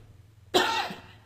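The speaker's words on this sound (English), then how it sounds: "Excuse me again for coughing in your ear." A single harsh cough bursts out close to the microphone after a quiet moment, then fades with a brief rasp of throat noise, while low hum sits underneath throughout.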